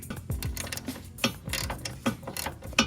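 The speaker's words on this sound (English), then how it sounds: "we're gonna remove that bracket there. It's a 10 millimeter bolt." A ratchet works a 10 millimeter bolt loose from a bracket on a Mini Cooper, giving rapid, close clicking in repeated short bursts with small metallic clinks.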